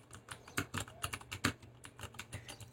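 Steady, fast typing on a mechanical keyboard with red switches, close and fairly quiet, with irregular clusters of light keystrokes and a few sharper key hits, no voices.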